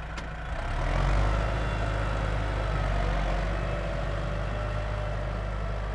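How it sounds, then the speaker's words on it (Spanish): A tractor working in an open field, marking out plots for planting trials with walkways between them: a steady, rumbling engine drone, heavy and low, running continuously at moderate distance with no voices. "Lo que vemos ahora es el tractor definiendo los lotes de los tratamientos"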